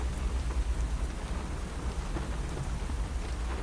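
Steady rain falls in a continuous wash of hiss with a low, rolling rumble underneath, like distant thunder. It is even in level and there is no talk.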